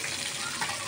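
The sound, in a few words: fish pieces frying in oil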